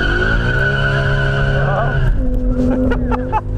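A 500 hp manual BMW sits at high revs, then launches from standstill with a loud, sustained engine drone that shifts pitch as the clutch engages, close by with faint tire noise.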